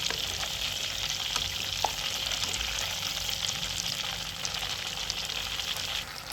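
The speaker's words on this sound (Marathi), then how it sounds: "हे थोडं लोणी तर ते मी आता कडवून शिना घेत आहे बघा." Butter simmers in a pan as it is cooked down into ghee, a dense steady bubbling sizzle that stays even and close with a faint occasional tap.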